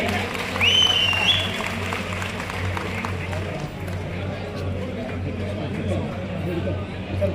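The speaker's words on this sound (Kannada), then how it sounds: "ಒಂದು ದೊಡ್ಡ ಚಪ್ಪಾಳೆ ಬರಬೇಕು ಒಂದು ಕಡೆ." An audience applauds at a civic ceremony where the Hubballi-Dharwad municipal corporation hands appointment orders to sanitation workers. The clapping is steady and diffuse, mixed with crowd murmur and a low electrical hum throughout.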